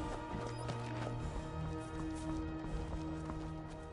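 Horse hooves clip-clop at a steady walking pace in the video game Level: Max, blended into a dense, continuous bed of game music and ambience at an even level throughout.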